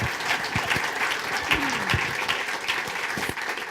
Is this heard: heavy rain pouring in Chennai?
no